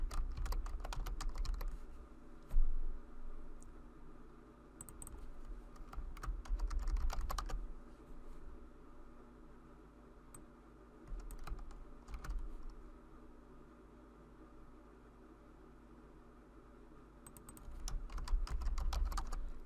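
Typing on a computer keyboard during an Excel spreadsheet exercise, bursts of rapid key clicks separated by quiet pauses, close and moderately loud over low room hum.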